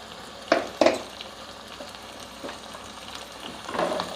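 Water splashed into a pan of browning chicken for curry: two sharp, loud sizzling bursts close together, a quieter crackle, then a rising hiss of steam near the end, with no voices.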